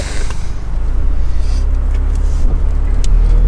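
An Audi TTS engine idles and rumbles steadily close by, with a low droning exhaust note and a few faint clicks over the top.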